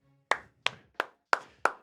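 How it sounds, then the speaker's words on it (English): Five sharp, close hand claps in a slightly uneven rhythm, each crisp and isolated against near silence. "clap it up"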